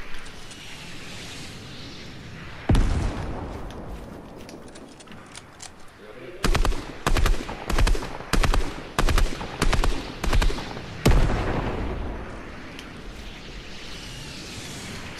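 Rockets fire and explode in the video game Fortnite (version 2.2): a sharp blast, then a rapid run of loud, evenly spaced bursts, and a final heavy explosion fading into rumble.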